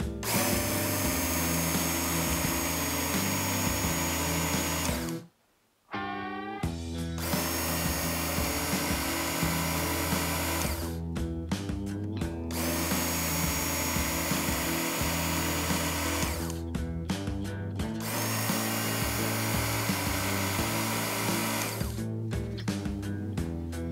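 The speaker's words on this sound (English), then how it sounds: "Set the knife in the guide, power up and then pull." A Work Sharp Original powered belt knife and tool sharpener grinds a recurve blade pulled through its guide, a steady loud whine broken by a short silent pause and a few brief dips as the knife is drawn through again.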